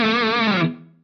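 Electric guitar through an Eventide H9 distortion algorithm with a low boost after the distortion, a single sustained, thick, buzzy chord that rings out and then decays smoothly to silence within about a second.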